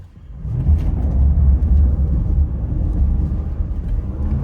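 A Ford F-150 XL pickup accelerating at full throttle gives a loud, steady low rumble that builds quickly and holds for several seconds, heard from inside the cab with no talking.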